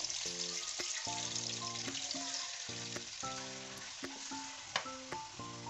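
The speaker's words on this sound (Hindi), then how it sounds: "चिकन को फ्राई कर लेंगे ऑयल में।" Chicken pieces fry in a cup of oil over a high flame, a steady close sizzle and crackle running throughout with occasional pops.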